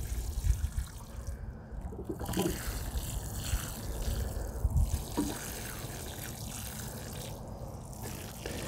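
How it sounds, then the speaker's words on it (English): Water trickles and drips onto freshly planted strawberry plants in soil with worm castings, giving a soft, uneven splashing with a few brief louder spills. "this also helps watering around the plant and giving these guys all a good watering in"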